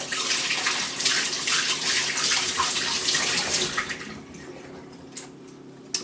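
Hands being washed under a running kitchen tap while preparing custard tarts, a steady close splashing stream for several seconds that thins out near the end, with a few faint drips.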